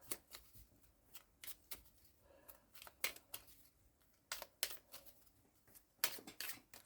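A small stack of five scratch cards is shuffled by hand in short, quiet riffling bursts with brief pauses between them, close and soft with no talking.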